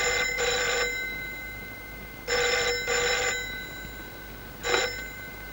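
An old-style telephone bell rings in a police station, in repeated electric bursts: a double ring, a pause, another double ring, and a shorter ring, moderately loud over quiet room tone.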